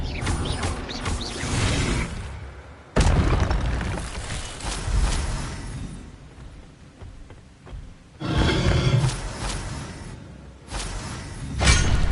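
Expelliarmus spell cast in the Hogwarts Legacy video game, heard as several loud magical bursts and crashing impacts with roaring swells between quieter stretches, each blast sharp at its onset.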